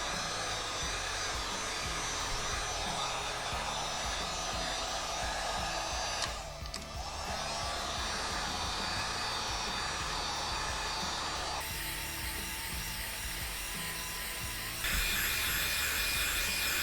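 A heat gun blows hot air steadily over a Shelby GT350 Track Pack's body panel while a rear wing is fitted, a continuous close whooshing roar with a brief dip partway and slight shifts in tone, no voices.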